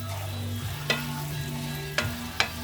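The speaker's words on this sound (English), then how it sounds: "So you're going to just give it a quick fry." Fried rice with garlic and fresh carrots stir-fried in a pan, with a steady close sizzle under a low hum and three sharp scrape-and-toss accents from stirring, no voices.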